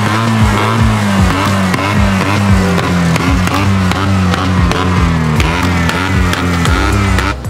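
A loud modified Fiat 126p (Maluch) engine with an altered exhaust at the Positive Ways 2022 car event, running hard and close with rapid revving pulses and sharp rises and drops in pitch throughout.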